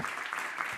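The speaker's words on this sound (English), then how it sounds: "please give one more round of applause for this amazing panel" A panel audience at a policy event on emerging technology claps briefly, a short burst of even, moderately loud applause.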